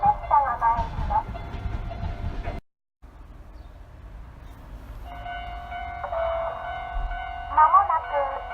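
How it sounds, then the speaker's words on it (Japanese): Station announcement chimes and a steady rumble fill a platform at Shitayama station on the Toyama Chiho Railway as a train approaches, with a brief dropout partway through and a train horn-like tone toward the end. "まもなく1番線に上り列車が参ります。"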